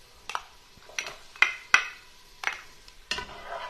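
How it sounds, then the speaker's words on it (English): A spoon stirs sliced garlic in a stock pot while cooking mussels marinière, producing about six sharp scraping knocks against the metal at uneven intervals, close and moderately loud, with no talking. "I'm going to give that a stir."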